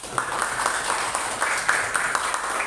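Audience clapping at a school gathering, a short, fairly loud burst of many hands with uneven, pattering claps throughout.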